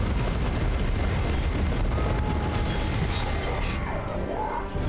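A Hellfire round detonates in Warhammer 40K: Dawn of War 2 Chaos Rising, a loud, sustained rumbling blast with crackling debris that keeps roaring for several seconds and fades slightly near the end.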